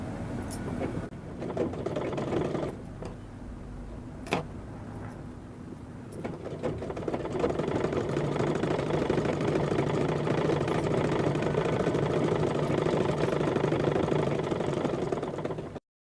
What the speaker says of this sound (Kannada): ಇನ್ನ ಒಂದು ಹೊಲಿಗೆ ಹಾಕಬೇಕು.